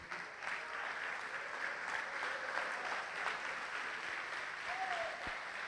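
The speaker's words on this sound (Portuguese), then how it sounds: "Vamos aplaudir ao Senhor." Congregation applauding the Lord during a church service, a faint, steady, distant wash of clapping with no clear individual claps and little talk.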